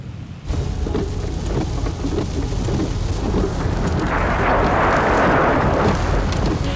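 Heavy rain pours down in a thunderstorm over the Australian outback, a loud, steady roar with rumbling thunder that swells toward the end, with no voices.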